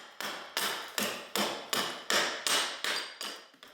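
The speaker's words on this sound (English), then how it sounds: "I like to use a hatchet or a machete for the early wood removal" A hatchet splits wood off a stave while roughing out a kids' bow, landing about nine sharp, close chops in an even rhythm roughly every 0.4 seconds, each ringing briefly before the next.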